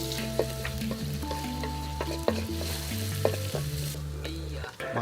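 Food sizzles and fries in a pan as a porter cooks in the mountains of Rinjani National Park, Lombok, with steady close stirring, scraping and occasional sharp metal clanks throughout, no speech.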